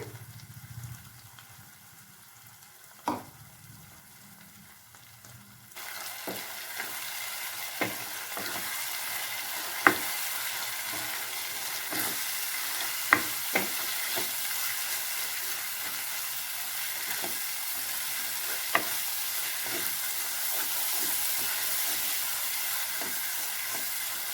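Spinach and gram flour masala cooking in a pan, a steady close sizzle and frying hiss with scattered stirring clicks and scrapes, growing louder and fuller partway through.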